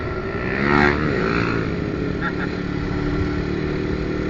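Steady engine roar of fast motorcycles on a road in Nganjuk, Indonesia, with one bike sweeping past near the start over a constant traffic drone.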